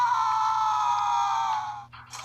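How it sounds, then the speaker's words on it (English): A redone scream from the video game Impossible Mission on Nintendo Switch: one long, loud, sustained voiced wail that holds steady, then cuts off with a brief trailing noise at the end. "The screaming sounds a little bit different."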